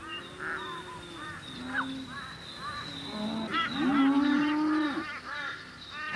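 Cattle moo repeatedly during a dusty muster on Mount Elizabeth Station in the Kimberley, with several loud, drawn-out bellows overlapping near and farther off, and calls strongest toward the end.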